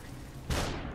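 A single sharp gunshot from the game Superhot bursts out midway, following a stretch of low rumbling background.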